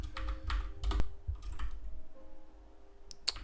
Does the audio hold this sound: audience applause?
no